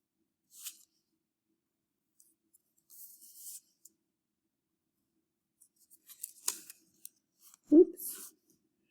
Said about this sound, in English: I'm going to go ahead and cut these out